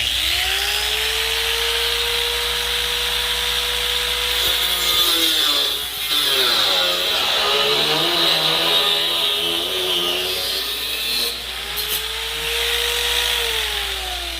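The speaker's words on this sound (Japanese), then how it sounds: "ネジは一旦外れないので、ここでカットをします" A stuck screw on a 1977 Corvette is cut off with a power tool, producing a loud, continuous whining grind whose pitch sags and recovers as the cut bites, heard up close.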